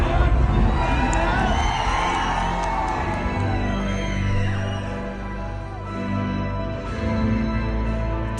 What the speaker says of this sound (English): Dude, the crowd goes wild.